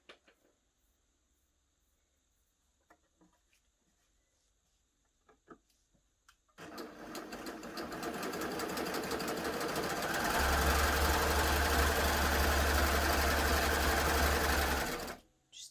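Baby Lock Gloria combination cover stitch and overlocker sewing a rolled hem, starting after a few quiet clicks and handling sounds, then running as a loud, fast, steady mechanical whir that rises in speed and stops abruptly near the end.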